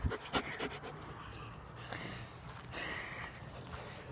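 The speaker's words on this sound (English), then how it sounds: "These are dogs." Dogs pant and sniff close by, with rhythmic breathy huffs and a few louder snorts near the start over a steady background hiss.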